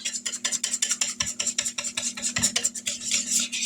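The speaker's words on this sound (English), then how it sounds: "We're going to mix it up so we don't have any lumps." A whisk beats milk into dumpling batter for a chicken and dumplings casserole in quick, rhythmic scraping strokes against the bowl, close and steady, with no voices.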